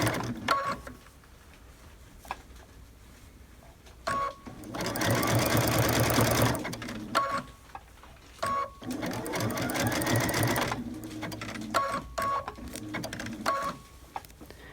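A sewing machine satin-stitches appliqué onto cuddle fabric, running in two sustained bursts of dense mechanical whirring, close and loud, separated by short pauses filled with soft clicks and handling noises.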